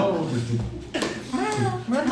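A cat meows a few times in short, rising and falling calls, heard close among people talking during an Instagram live stream.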